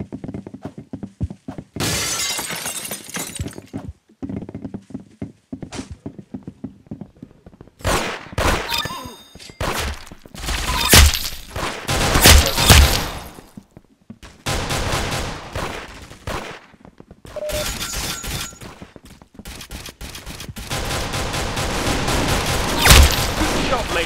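Gunfire in a video game comes as bursts of shots and rapid volleys scattered across the stretch, mixed with shattering impacts and metallic dings, loud and close with brief gaps between bursts.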